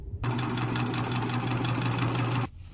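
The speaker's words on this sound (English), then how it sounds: "So I'm gonna sew on this side, down the long side, and up here, but stop here and leave this unsewn." A sewing machine stitches the edges of an all-cotton notepad holder, running in one steady, continuous burst of close, even mechanical whirring that starts and stops cleanly.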